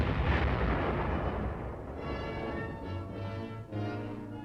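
A 105mm howitzer fires directly from close range with a loud, broad blast, followed by a steady low rumble of armored vehicles grinding along.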